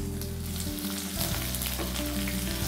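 Mustard seeds, curry leaves, ginger, green chili and garlic sizzle in hot oil in a pan, a loud close crackling fry with stirring scrapes and a steady hum underneath.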